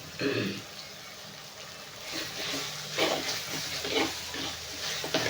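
Sliced onions frying in oil with ginger and garlic sizzle and crackle steadily, with occasional louder bursts as the pan is stirred, close by and at low volume.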